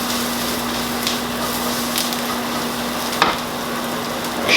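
Zucchini frying in butter in a hot pan, a steady soft sizzle with a faint crackle and one brief sharp tick near the end.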